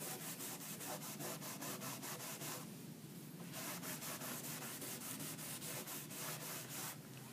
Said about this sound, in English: we'll simply rub it on there on the floor where we lightly sanded. Let it sit for just a moment there, and then we're going to wipe it right back off.